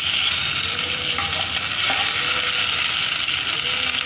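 Onions, potatoes and tomato sizzle loudly in a pan while being stirred for Punjabi khichdi, a constant hissing fry with scraping, clicking spoon strokes against the metal, no talking.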